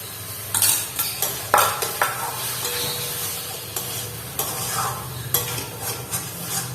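A spoon stirs yogurt into a cooking bhetki fish curry in a pan, scraping and clinking against the metal in uneven strokes over a steady sizzle, close and fairly loud.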